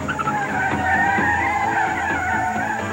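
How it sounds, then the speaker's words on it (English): A stolen Ford Mustang convertible peels away, its tires squealing and skidding with sustained shrill screeches over the rising engine, loud and close for the whole few seconds. "The car thief speeds away in the convertible"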